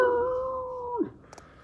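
A voice imitates a dog caught in a trap howling in pain: one long, sustained howl that drops off at the end into a short whimper, close and alone.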